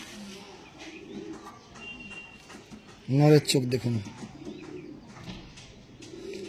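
Purebred pigeons, shown close up at a breeder's sale, coo softly in the background while someone talks at length over them.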